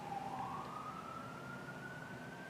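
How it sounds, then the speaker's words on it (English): A distant emergency siren wails steadily outside, drifting in faintly through an open window over a low background hum. "I swear, all I've been hearing throughout this video is sirens."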